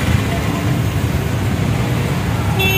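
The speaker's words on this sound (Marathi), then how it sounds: "आल्या आल्यास ट्रॅफिक जाम झालेला आहे. 3-4 बसच भेटल्यात कंटिन्यू." Steady, loud roadway rumble of a traffic jam in Kudal, with buses and other vehicles moving close by and a voice speaking over the traffic.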